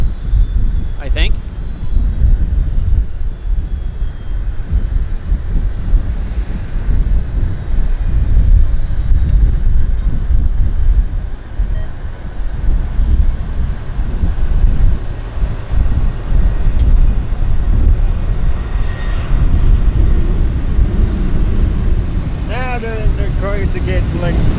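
A WestJet airliner rolls for takeoff at Vancouver International Airport, a distant, steady broadband roar and rumble lasting throughout while someone talks over it.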